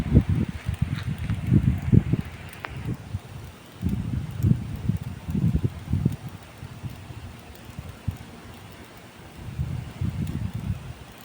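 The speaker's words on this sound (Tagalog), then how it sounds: "Lakas yung hangin." Strong wind buffets the microphone in heavy, irregular low rumbling gusts, with brief lulls between them and no talking.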